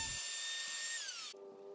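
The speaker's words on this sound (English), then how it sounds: "With a plunge router, I used a straight router bit with a 1 inch cutting depth." Plunge router fitted with a straight bit working wood: a loud, high motor whine holds steady, then drops sharply in pitch as it spins down near the end.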